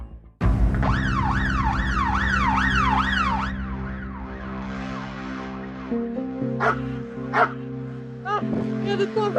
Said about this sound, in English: Get the dog off me.